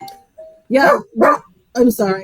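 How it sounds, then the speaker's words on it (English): A pet dog barks indoors in a few short, sharp bursts, closely mixed with a person's speech during a conversation. "that's my dog"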